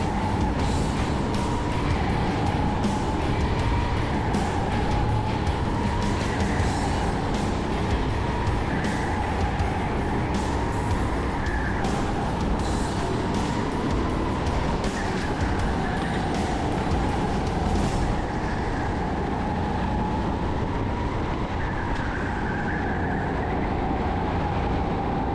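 Go-kart engines racing around the indoor Speedpark Strasbourg kart track during a four-hour endurance race, a constant loud droning engine roar with steady whine, no talk.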